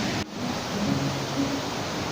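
Kürekli Dere waterfall, dropping about 70 metres at its fullest flow, gives a steady, dense rushing roar with no break, heard from below the falls.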